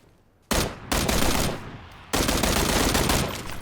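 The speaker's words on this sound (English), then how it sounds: "It sounds like there's a pistol, like a silenced pistol nearby as well." Gunfire in the battle-royale game PUBG, a silenced pistol nearby: three loud, dense bursts of rapid shots, the first short and the next two long and sustained, separated by brief near-silent gaps.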